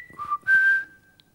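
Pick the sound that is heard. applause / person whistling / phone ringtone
person whistling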